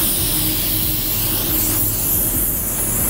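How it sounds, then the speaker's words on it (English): Steady, loud hiss of compressed air blowing continuously from a paint spray gun onto a car panel, close by, with a low rumbling undertone and no talking. "I'm gonna just use the air off the gun to tack this off"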